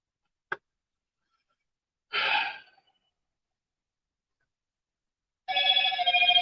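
A telephone starts ringing near the end with a steady electronic tone, after a brief click and a short breathy rustle in an otherwise quiet room.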